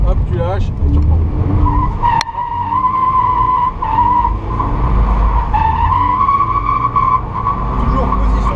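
Toyota GT86 drifting around a tight roundabout, a sustained loud tire squeal riding over revving engine noise for the whole stretch, with someone talking over it.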